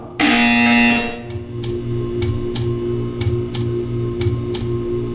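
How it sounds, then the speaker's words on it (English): In the video game Portal 2, a loud sustained electronic buzzer blares for about a second, then a steady run of evenly spaced ticks continues over a low droning hum. "You will hear a buzzer."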